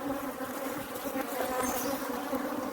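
Africanized honey bees hum and buzz continuously around an open hive, a close, steady drone of many insects at moderate loudness without talk.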